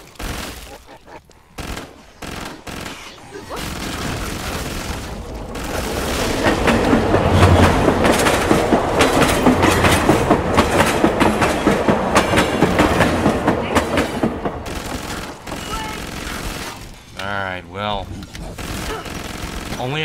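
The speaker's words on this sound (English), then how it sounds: "Only if that, annoying train noise wasn't there." Loud, continuous rumbling clatter of a passing train in Killing Floor 2 on the KF-TheHood map, swelling to a sustained roar through the middle and then fading, with game effects and brief talk around it.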